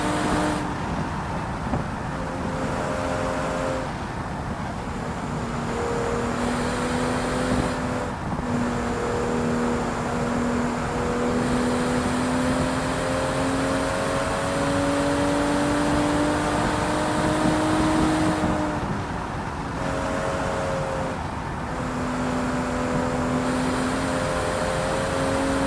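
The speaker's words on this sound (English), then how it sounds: "Look how you can hear the turbo sound." Steady engine drone from inside a moving car, with a rising and falling tonal whine from the turbo as it accelerates and eases off. The sound is continuous, loud and close, and there is no talking.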